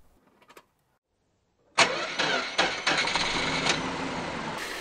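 Car engine cranking and catching during a battery and charging-system voltage test, silence and a few faint ticks before a sudden loud start that settles into a steady idle with some bursts, close by.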